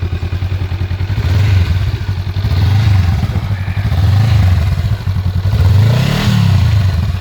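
A brand new 2021 motorcycle with very low kilometers idles and revs close by, a loud throbbing engine note with a clattering pulse and repeated swells in pitch, with no talking.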